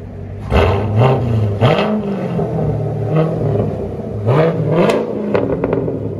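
Inside a Chevy Corvette Z51, the engine is revved repeatedly, each blip rising and falling in pitch over a steady rumbling idle, close and loud, with several distinct rev swells.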